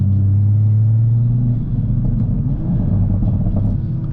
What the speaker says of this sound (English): Sometimes this car reminds me of like the sound of a 2JZ